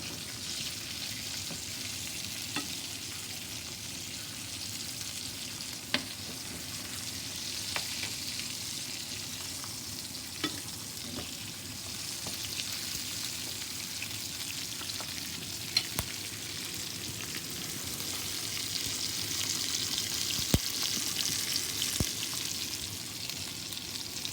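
Salmon fillets fry in a pan with a soft, even sizzle that runs the whole time. Occasional sharp ticks and spatters break through, and the sound is fairly quiet and close.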